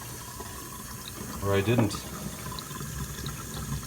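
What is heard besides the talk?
water in a clogged kitchen sink, filling or draining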